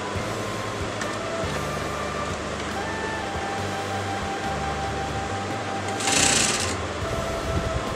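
A sewing machine hums on as a collar is sewn at the neckline, its low motor whir running under steady background noise with a brief higher burst near the end and no speech.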